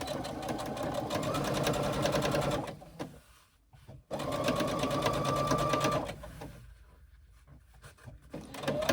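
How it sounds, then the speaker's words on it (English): Sewing machine stitching the bottom of a pocket on a pleated garment, running in two steady bursts of rapid mechanical chatter with a quiet pause between them and a softer stretch near the end. "stitching in the bottom of the pocket"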